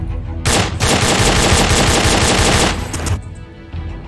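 A sustained loud burst of automatic rifle fire from the VR shooter Onward, roughly three seconds of rapid continuous shots close by, fading into a brief quieter tail.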